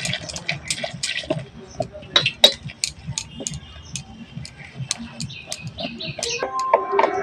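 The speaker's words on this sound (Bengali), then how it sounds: "অল্প অল্প জল দেবো আর বেসনটাকে ভালো করে গুলে নেবো" Gram flour batter is whisked with cold water in a bowl, making close, irregular light clicks and tapping with soft wet sloshing in between.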